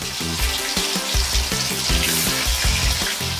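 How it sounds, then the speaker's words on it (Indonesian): Snapper fish croquettes, salted and coated in egg white and breadcrumbs, fry in hot oil with a steady, dense crackling sizzle throughout, close and fairly loud, no voices. "Oke, waktunya goreng lur."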